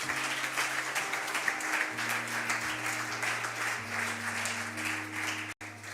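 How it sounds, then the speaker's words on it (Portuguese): A standing church congregation applauds in a continuous wash of clapping, with a low sustained musical tone underneath and a brief cutoff near the end. "Aplauda Jesus"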